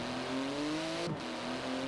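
In Forza Horizon 4, a carbon-fibre car with a 700-horsepower 3.8-litre twin-turbo flat-six revs briefly, giving a steady, close engine drone with shifting pitch and no talk.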